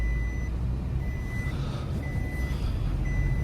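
A steady electronic seatbelt reminder beep repeats at regular intervals over the low rumble of a running 2013 Nissan Qashqai+2 J10 1.6 diesel engine with manual transmission.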